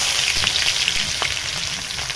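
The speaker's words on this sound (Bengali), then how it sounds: "জিরা দেওয়া হলো, পেঁয়াজ দিয়ে দিচ্ছে" Onion hits hot oil with cumin, giving a close, steady sizzle and crackle that stays loud and even throughout the brief moment.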